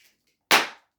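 A latex twisting balloon pops with a single sharp, loud bang while a balloon curling rock hat is being made, ringing out briefly before fading.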